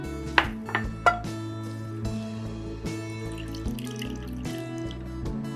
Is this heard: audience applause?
no